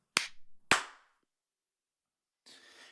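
A single sharp hand clap for sync, preceded by another crisp clap, each ringing out loud and close in a quiet room, followed by faint rustling.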